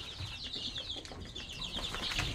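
Chicken chicks in a brooder give constant high, thin peeping, many small voices overlapping in a busy chorus, with faint scuffling and pecking underneath.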